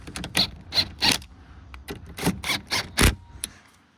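Tow mirror mounting bolts on a 2019 Ford F150 are tightened with a hand tool: a series of short, separate metallic clicks and ratcheting bursts, close and fairly quiet, with pauses between the turns.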